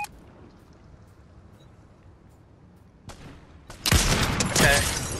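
Gunfire in the Fortnite video game starts as sparse faint shots, then turns into a loud, dense burst of rapid fire that carries on through the final seconds.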